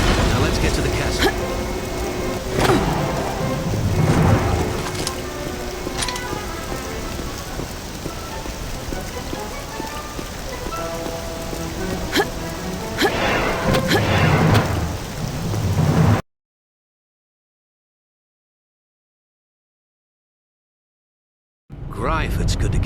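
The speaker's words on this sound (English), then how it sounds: "it's good to get out of that rain" Heavy rain pours with low thunder rumbles in the Android version of Star Wars Jedi Knight: Jedi Academy. The loud, steady downpour cuts to silence for several seconds, then briefly resumes.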